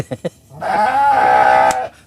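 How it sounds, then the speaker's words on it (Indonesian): A goat bleats once, a loud, drawn-out wavering cry lasting over a second, preceded by a couple of short soft thumps, with no talking. "Ada penampakan, ada suara kambing."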